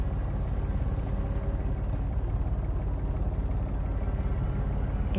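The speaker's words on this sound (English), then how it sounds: "A diesel pump chugging away." Diesel pump at a groundwater excavation site in the game Secret Files 3, chugging steadily with a low, even engine throb that carries alone and unbroken throughout.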